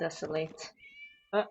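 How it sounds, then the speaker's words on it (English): A single short cat meow in a video game sounds between spoken lines, clear and close, with a quieter vocal blip right after. "It was just a cat."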